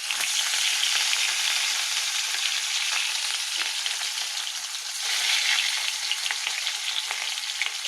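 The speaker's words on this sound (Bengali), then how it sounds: "তাহলে মাছটা ভাজা হোক।" Pieces of bhetki fish fry in hot oil in a kadai, giving off a steady, dense sizzle and crackle that stays loud and even for the whole stretch, with no one speaking.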